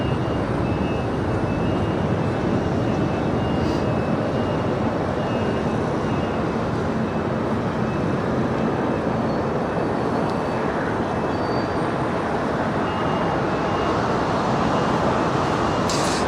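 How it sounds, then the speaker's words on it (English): A United Airlines Boeing 757-200, 27 years old, takes off from Los Angeles International Airport, a loud steady broadband engine roar sustained throughout without speech. "That was United Airlines Flight 514. It's a 757-200 on our way to JFK."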